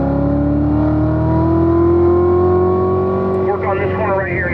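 A Corvette on a race track accelerates out of a corner, its engine note loud and close and rising steadily in pitch. A voice speaks over the engine near the end.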